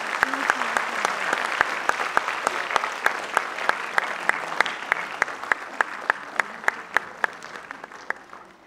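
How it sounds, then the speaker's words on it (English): Parents applaud at a convent school function, a continuous patter of clapping from a seated crowd with sharp, regular nearby claps punctuating it, slowly fading over nearly nine seconds. "Your parents continue clapping."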